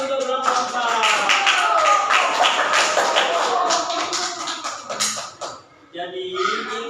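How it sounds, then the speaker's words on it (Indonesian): Applause from a class audience for a student group at an Islamic university teacher-training session, a dense burst of many hands clapping, steady and close, fading briefly near the end before picking back up. "Tepuk tangan untuk kelompok 4."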